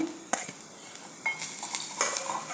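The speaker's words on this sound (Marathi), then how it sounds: "अगदी मिनिटभर आपण ह्याला परतून घ्यायचं आहे" Dry and fresh coconut with masala is stirred in a pan, a spoon scraping and clinking in irregular strokes over a soft frying hiss, close and without talk.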